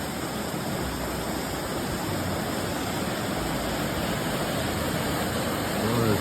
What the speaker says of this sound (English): This is Whitlock Falls.